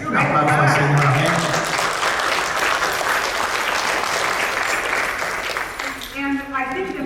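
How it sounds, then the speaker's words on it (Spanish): A large crowd at a church service applauds loudly and continuously, the clapping fading slightly toward the end as voices rise. "Un aplauso al Señor."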